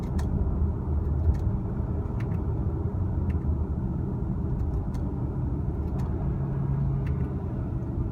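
A 2018 Audi Q5 with a 2.0-litre turbo engine pulls through a near-full-throttle acceleration run, heard as a steady low cabin rumble and engine drone with faint clicks and no talking.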